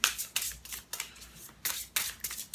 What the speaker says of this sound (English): shuffling the cards for that.